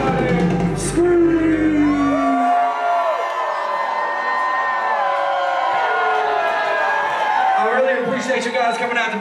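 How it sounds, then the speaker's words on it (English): A concert crowd at the House of Blues screams and cheers loudly and continuously at close range, a dense wash of whoops and yells that swells and ebbs throughout after a brief burst of music at the start. "can somebody, anybody, everybody scream?"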